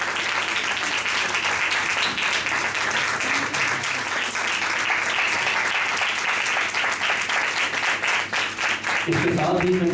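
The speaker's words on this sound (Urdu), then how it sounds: "جی زوردار تالیاں خدا کی بات کے لیے" Loud, sustained applause from a church congregation at a Sunday evangelical service, dense clapping filling the whole stretch before a brief voice cuts in at the very end.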